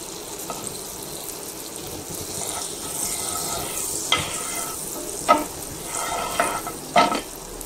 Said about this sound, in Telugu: కాస్త బటర్ కరిగేంత వరకు వెయిట్ చేద్దాం.